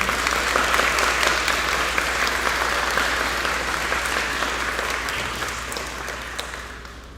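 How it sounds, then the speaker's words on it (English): Sustained, loud applause from a graduation ceremony audience honoring graduating students, steady throughout and tapering slightly toward the end, with no talk over it. "Please one more round of applause for our Rukna students."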